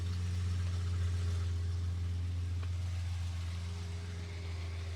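A 1973 Jaguar E-Type Series 3 V12 open two-seater idles steadily after a cold start, a smooth continuous low engine hum heard close and alone.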